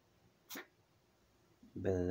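A puppy gives one quick, sharp sneeze, close and fairly quiet against a calm room, and a person's voice comes in shortly after.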